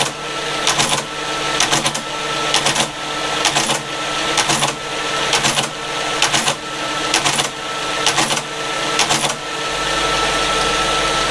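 A Creed 7B Mark 1 teleprinter's motor hums steadily while its mechanism clatters through repeated fast cycles, sharp mechanical bursts recurring at an even pace, loud and close, ending in a plain motor drone.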